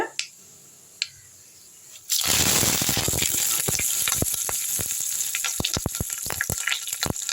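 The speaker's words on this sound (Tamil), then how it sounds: "கடுகு நல்லா பொரிஞ்சிருச்சு" Mustard seeds spluttering and popping in hot oil in a pan, a burst of dense sizzling that starts abruptly after a quiet lead-in, with sharp crackling pops continuing steadily and close by.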